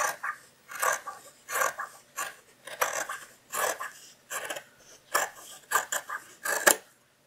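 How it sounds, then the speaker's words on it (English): Scissors cut through table runner fabric with its backing and batting, making a steady series of about a dozen crisp snipping crunches, close and distinct with short pauses between, and no voices. "The next step is to trim the table runner, backing and batting even with the edge of the actual table runner"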